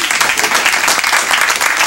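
A studio audience at a televised comedy sketch set at a dog show claps steadily, a dense, continuous wash of hand claps filling the whole moment with no pauses.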